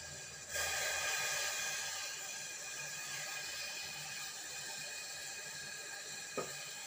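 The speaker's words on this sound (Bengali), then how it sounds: "দেখেন পানিটা এখানে ফুটছে" Water boiling in a pot on the stove while a homemade drink mixture is being prepared, giving a steady close hiss and bubbling that starts abruptly and continues evenly, with a brief clink near the end.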